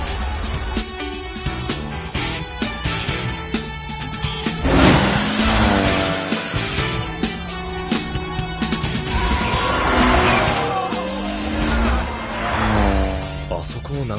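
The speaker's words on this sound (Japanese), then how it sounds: "すげえ、信じられねえドリフト。" A Toyota AE86 drifts against a Nissan GT-R R32 in an Initial D anime race, with continuous engine roar and tire squeal running throughout under loud music and excited talking.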